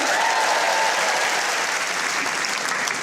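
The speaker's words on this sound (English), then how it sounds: "Round of applause" A stand-up comedy crowd breaks into a steady, loud round of applause, with a few scattered voices mixed into the clapping throughout.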